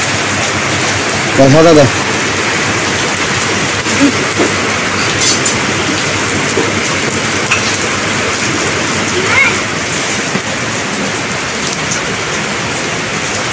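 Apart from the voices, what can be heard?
heavy downpour rain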